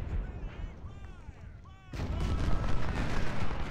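Artillery fires in Ultimate General Civil War amid a rolling, crackling barrage of distant booms and musket-like shots. The barrage thickens and grows louder partway through, with faint whistling tones in the first half.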